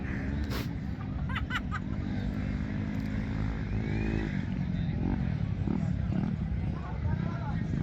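Motorcycles in a ladies' race at a barangay track in Ormoc City, Leyte, rev and roar past at close to moderate range, engines rising and falling, while a commentator and onlookers talk over them.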